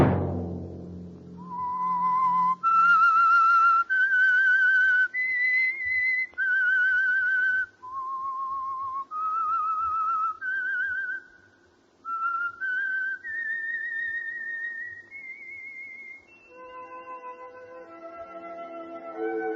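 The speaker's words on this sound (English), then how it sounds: "Let that whistle be your signal for the Signal Oil program, The Whistler." A lone whistler performs a slow, eerie melodic tune as the signature theme of The Whistler radio show, clear sustained notes rising and falling over nearly twenty seconds, close and alone after a brief low opening tone.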